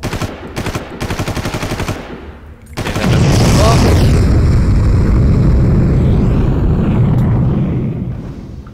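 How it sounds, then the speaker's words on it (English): In the Far Cry video game, at a seawater pumping station, short bursts of gunfire give way to a long, loud, roaring explosion that rumbles on steadily for several seconds before slowly fading. "Oh, that was a long explosion."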